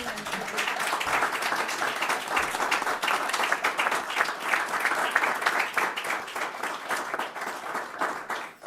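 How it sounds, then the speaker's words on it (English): Sustained audience applause at a League of Women Voters candidates night forum, thanking the candidates; dense, loud, continuous clapping from a room full of people, steady throughout with a brief fade at the end. "I will lift my ban on applause so we can thank the candidates"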